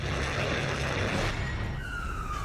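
Emergency sirens of fire engines and ambulances in Kyiv after a missile attack, a wailing siren over dense city traffic rumble, fairly loud and continuous, with a rising tone emerging near the end.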